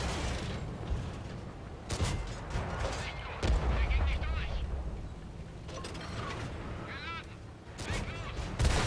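Tank cannon shots boom in the World of Tanks Modern Armor video game on PS5, several sharp blasts spaced a few seconds apart amid mechanical engine noise, fairly quiet in the mix.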